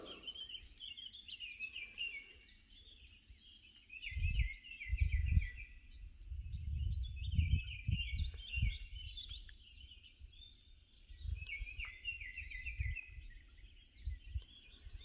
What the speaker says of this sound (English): it sure sounds like the birds, like a cool misty morning